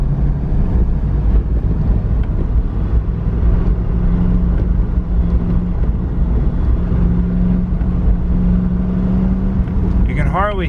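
A Corvette engine drones in a low, steady rumble with heavy wind buffeting over it while driving, loud and continuous, with no distinct knocking standing out.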